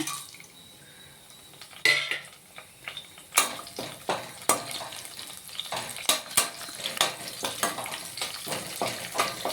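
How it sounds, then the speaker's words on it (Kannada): Whole spices frying in heated oil for mushroom Ambur biryani, a soft sizzle carrying under a string of sharp clinks and scrapes of a spoon against the pan, close and fairly quiet, with no talking. "ಸ್ವಲ್ಪ ಫ್ರೈ ಮಾಡ್ಕೊಂಬಿಡೋಣ ಇದನ್ನು."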